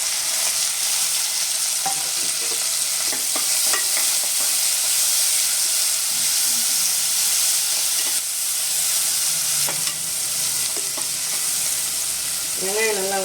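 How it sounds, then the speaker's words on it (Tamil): Onions sauté with cardamom, clove, green chilies and curry leaves in a pan for banana stem koottu, giving a steady, loud, continuous sizzle and hiss with occasional faint stirring taps throughout. "வெங்காயம் நல்லா வதக்கிட்டோம்"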